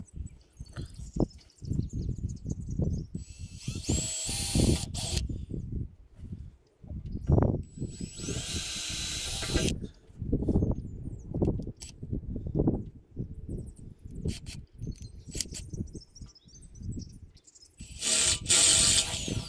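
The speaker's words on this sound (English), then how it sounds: "I'm gonna step up each time with each drill bit" Power drill boring out holes with a step drill bit, on a camper awning being converted into a flagpole; bursts of grinding whir come and go in short runs with pauses between, close and fairly loud, no talk.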